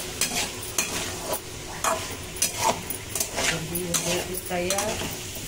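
Vegetables being stirred in a hot pan with soy sauce, a utensil scraping and clinking against the metal in uneven strokes over a steady close sizzle.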